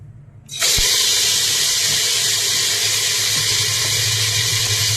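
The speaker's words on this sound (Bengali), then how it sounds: "তেলও গরম হয়ে গেছে। এবার এটাকে আমি ছাড়বো।" Marinated food drops into hot oil, setting off a sudden loud, broad frying hiss that holds steady and close for several seconds.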